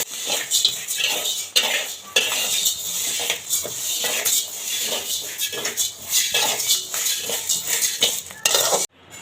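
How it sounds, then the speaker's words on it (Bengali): Rice grains dry-roast in a metal pan until they puff, with a spatula scraping and stirring in a quick, uneven rhythm of close, clattering strokes over a light crackle. "এই যে চালগুলো ভেজে নিচ্ছি"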